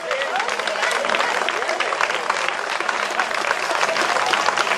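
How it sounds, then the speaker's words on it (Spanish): Steady, close audience applause for Canarian wrestling champions after an exhibition, continuous clapping from a crowd with a voice speaking over it. "Aplauso a todos estos campeones de lucha canaria."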